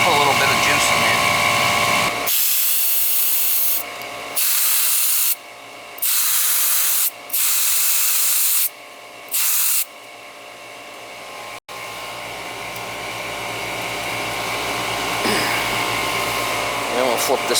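Refrigerant is charged into an old, iced-up R22 air conditioning system: loud, close hissing bursts that start and stop several times, then settle into a long steady hiss that slowly builds.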